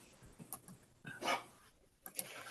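A puppy gives a few small, faint yips and barks near a beach amid quiet background noise, scattered across a couple of seconds.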